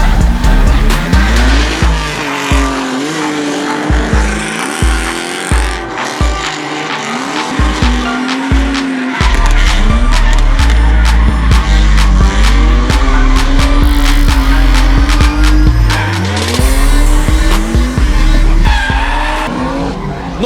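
Drift cars skid at the opening round of the Street and Semi-Pro drift leagues in Šiauliai: loud engines rev and wail, with sustained tire squeal and pulsing low throbs close by.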